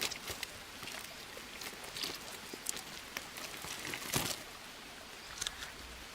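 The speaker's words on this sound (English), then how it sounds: "okay, it's raining enough" Rain falling in the jungle survival game Green Hell, a steady faint patter with a few louder droplet splashes scattered through it, heard alone without any voices.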